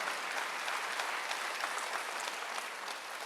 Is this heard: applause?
yes